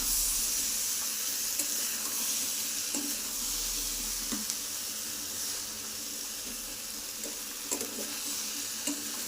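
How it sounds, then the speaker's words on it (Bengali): Soybean curry sautéing in a pan sizzles steadily and close up, a continuous hiss broken by occasional stirring clicks, with no talking. "এদিকে সোয়াবিনটা আমি সুন্দর করে কষিয়ে নিচ্ছি"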